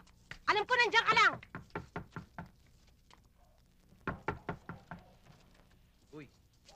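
Rapid knocks pound on a door in two quick bursts, loud and close, after an urgent shouting voice in a dramatic film scene, with a brief vocal sound near the end.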